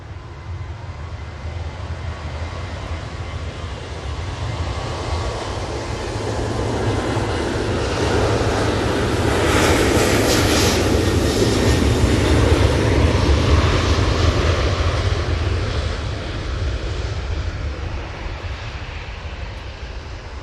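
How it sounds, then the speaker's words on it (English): A Ryanair Boeing 737-800 rolls for takeoff at Manchester Airport, a loud steady jet engine roar that swells toward the middle and stays strong before easing slightly, with no voices. "On the roll now, we have this Ryanair 737-800."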